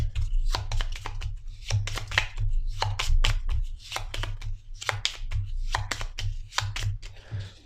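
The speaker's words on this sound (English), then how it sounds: "So, just shuffle up our modifier cards." Gloomhaven attack modifier cards are riffled and shuffled in quick repeated bursts, crisp and close, with short pauses between shuffles and no talking.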